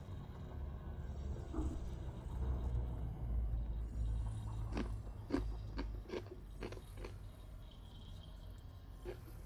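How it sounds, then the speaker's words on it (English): Corn chips being munched close to a microphone, with a run of sharp, distinct crunches in quick succession standing out over a low background rumble. "Apparently munching on corn chips is more than enough to trigger my noise gate."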